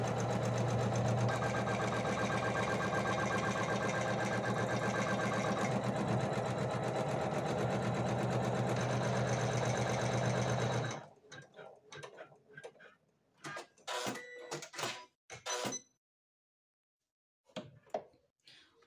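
An embroidery machine stitches a marking on a 13 by 18 hoop with a fast, steady mechanical ticking that runs for about eleven seconds, then stops and gives way to separate clicks and handling sounds.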